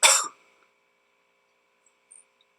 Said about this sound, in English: That's me from the video coughing.